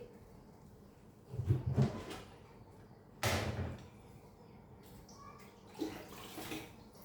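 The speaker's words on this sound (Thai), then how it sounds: "ใส่น้ำดื่มสะอาดลงไปด้วย" Clean drinking water is poured into a pot with salt while making candied kaffir lime. Several short splashing pours come at intervals, separated by quieter kitchen handling sounds.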